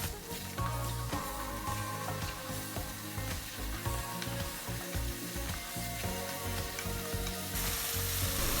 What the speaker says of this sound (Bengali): এবার মশলাগুলো ভালো করে ভুনা করে নেব।